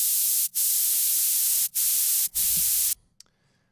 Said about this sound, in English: Next is the white noise.